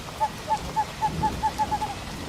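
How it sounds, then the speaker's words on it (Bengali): A great horned owl hoots in a short series of about eight evenly spaced calls on a rainy night over a paddy field. The hoots are clear and moderately loud over a steady hiss of rain. "মাঝে মাঝে হুতুম প্যাঁচার ডাক শোনা যাচ্ছে"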